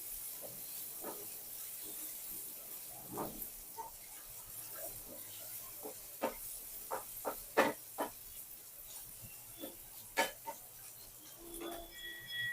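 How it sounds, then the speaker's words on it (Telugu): Tempering spices (popu) sizzle and hiss steadily in hot oil for a bottle gourd yogurt chutney, with sharp crackles and pops scattered through, several sounding close and loud. "పోపు బాగా వేయించుకోవాలి"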